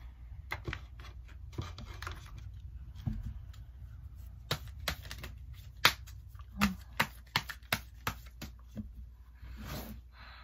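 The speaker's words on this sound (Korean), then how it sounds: "5번 셔플 하겠습니다." Tarot cards being shuffled by hand, a run of crisp riffling flicks and sharp slaps in an uneven rhythm, close and clear with no one talking.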